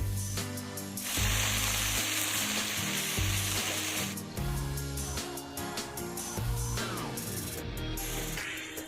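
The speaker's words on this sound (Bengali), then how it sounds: "এই পর্যায়ে আমি দিয়ে দেব জল ঝরিয়ে রাখা সর্ষে ফুলগুলো" Drained mustard flowers hitting hot oil with lightly browned garlic in a pan, a loud crackling sizzle that flares up and settles repeatedly, with stirring scrapes close by.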